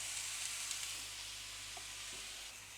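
Chicken breasts sizzle on an oiled griddle pan, giving a steady, even hiss throughout with no talking.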